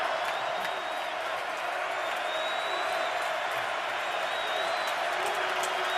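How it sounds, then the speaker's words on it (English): A steady roaring stadium crowd at a Pittsburgh Steelers at Baltimore Ravens night football game urges on its defense, a continuous loud wash of cheering with whistling tones over it. "Crowd exhorting and imploring its defense"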